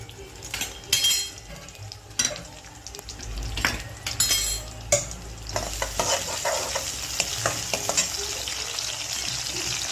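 Chopped onion hits hot oil with crackled cumin seeds for dal fry, setting off a loud close sizzle that swells and keeps hissing, punctuated by sharp clinks and scrapes of a spoon stirring the pan.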